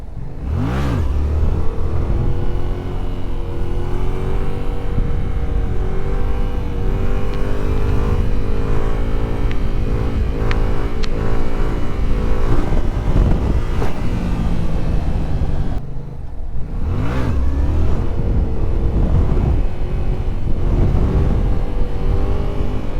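A Yamaha FZ07 motorcycle engine revs hard and close, its pitch rising and falling through repeated throttle swells with a brief gap near the end before it climbs again, and nobody speaks.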